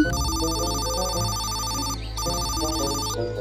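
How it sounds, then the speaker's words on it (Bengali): An electronic phone ringtone plays a repeating melodic pattern in two bursts separated by a short pause, clear and steady, with no speech. "বরং অসুরকে একটা ফোন দেই।"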